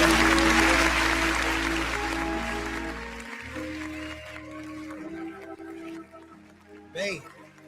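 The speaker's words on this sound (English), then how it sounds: "give yourselves a round of applause all over the building" An audience gives a round of applause throughout a building; a dense wash of clapping starts loud and steadily fades away while someone talks over it.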